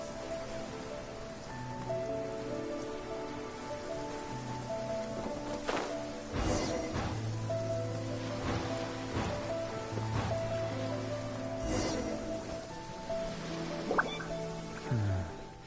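Heavy downpour in Genshin Impact drums and drips steadily on surfaces throughout, with scattered louder splashes and thumps over a constant hiss, plus soft game music tones underneath.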